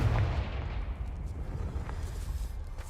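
The Confringo blasting spell in Hogwarts Legacy detonates with a deep booming explosion, then a dense rumbling roar that decays slowly across the rest of the moment.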